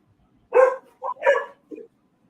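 A dog barks indoors in a quick burst, two loud barks followed by two shorter, softer ones, close by against a quiet background.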